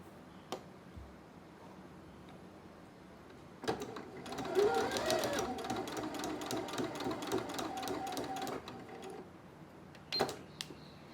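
A sewing machine stitching bias binding onto fabric, a few isolated clicks, then a run of quick rhythmic stitching for several seconds and a brief final burst, fairly quiet and close.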